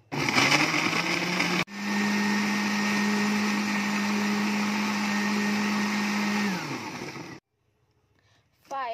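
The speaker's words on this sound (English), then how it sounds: "Blender and wait until all the ingredients are mixed and combined smooth." An electric blender whirs loudly and steadily while mixing papaya juice ingredients, then winds down and cuts off, leaving near silence before a brief new sound at the end.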